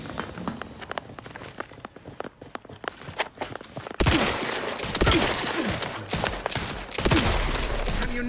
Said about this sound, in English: Aha, repeating rifle.